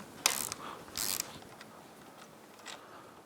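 Ratchet clicking while tightening the clamp bolts on a Honda Grom during an Ohlins fork and shock install, two short bursts of close, crisp clicks followed by a fainter one.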